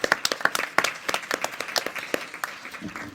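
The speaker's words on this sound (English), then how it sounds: "So round of applause to these three incredible individuals" Audience at a law school evidence competition clapping for the organizers, a moderate crowd of distinct, irregular hand claps close by that thins out toward the end.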